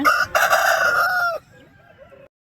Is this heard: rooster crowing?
yes